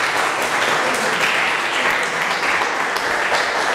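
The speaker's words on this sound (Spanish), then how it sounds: "le damos otro aplauso a Rafa Flack." An audience applauds at the close of a mathematics lecture, a loud, continuous, even round of clapping from many hands that fills the whole stretch.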